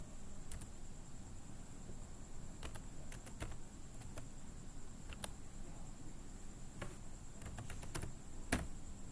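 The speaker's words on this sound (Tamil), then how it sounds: "இந்த நம்பரை தான் நீங்கள் இங்கே டைப் பண்ணணும்" Keys on a computer keyboard tapped in scattered, irregular keystrokes, faint and close, over a steady low background hum with no talking.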